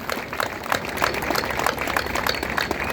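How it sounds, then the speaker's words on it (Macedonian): A protest crowd outside a building applauds for police officers, producing dense, continuous clapping that holds at a steady, loud level for a few seconds with no talk over it. "Да ги поздравиме со огромен аплауз полициските службеници кои стојат заедно со нас"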